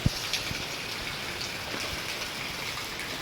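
Steady rain falls through a grey, overcast rainy-season day, a dense continuous patter with a few louder drops landing close by early on, no voices.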